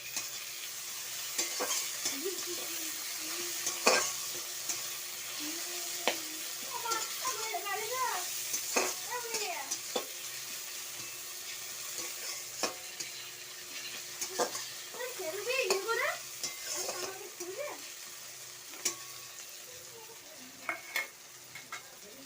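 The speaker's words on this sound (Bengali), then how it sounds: "পেঁয়াজটা আমি একটু ভেজে নিচ্ছি লাল লাল করে" Onions and tomatoes fry and sizzle in a pan while being stirred, with steady frying hiss and repeated scraping strokes of a spoon; a voice talks intermittently over the cooking.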